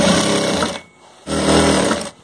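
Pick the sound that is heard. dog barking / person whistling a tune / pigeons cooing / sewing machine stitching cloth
sewing machine stitching cloth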